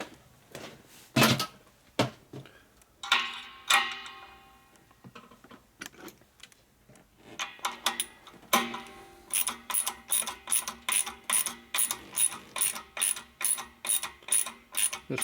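A hand ratchet with a tall 1/2-inch deep socket tightens a bolt on a Dayton 240V 7-1/2 hp air compressor, rapid close pawl clicks coming in irregular bursts and then a long steady run of rhythmic strokes.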